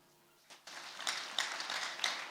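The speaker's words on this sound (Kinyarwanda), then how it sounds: "Mwambere Imana amashyi." Congregation applauding during a church service, scattered hand claps building into a soft, moderate round of applause that swells in waves after a quiet start.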